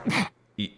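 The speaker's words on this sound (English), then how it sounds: "that was a sneeze that was a long time coming" Two short, sharp bursts from a person sneezing, the first louder and fuller, the second clipped and higher, separated by a brief pause and heard close up.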